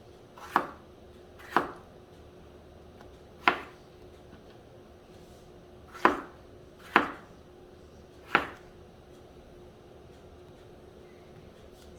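A knife chops tomatoes, jalapeño, garlic and onion on a cutting board in six sharp, well-spaced thuds at an unhurried, uneven pace, close and clear against a quiet kitchen background.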